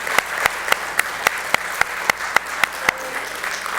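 A church congregation claps together in a strong, even rhythm, each beat sharp and distinct at roughly three per second, loud and close throughout.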